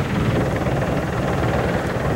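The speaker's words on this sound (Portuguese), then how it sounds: "a participação do comandante Paulo a bordo do helicóptero de Pascoal para os amigos da Rede Bandeirantes" A helicopter flying over São Paulo before the 1994 World Cup final gives a steady, loud, close rotor-and-engine drone that runs unbroken throughout, with no voices.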